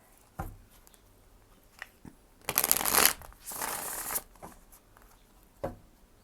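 Tarot cards being shuffled by hand in two quick, fairly loud riffling bursts, with a few soft taps and handling clicks before and after in a quiet room.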